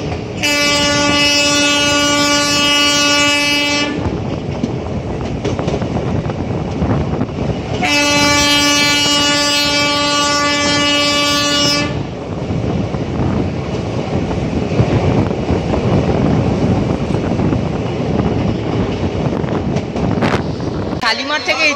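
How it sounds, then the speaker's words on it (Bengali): Ispat Express passing through Mecheda railway station, two long, loud horn blasts a few seconds apart over a continuous roar of rumbling wheels and wind buffeting the microphone, heard from close by. "আর এদিকে কিন্তু ইস্পাত এক্সপ্রেস ক্রস করছে মেছেদা রেলওয়ে"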